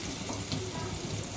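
Onions frying in a pan until brown, giving a steady broadband sizzle that fills the short stretch at an even, moderate level, with a faint clink of stirring.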